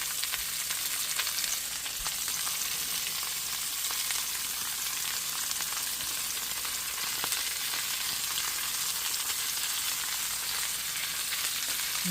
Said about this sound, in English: I'm going to put in the celery, the carrots, the cabbage, and I'm going to also add in the onions.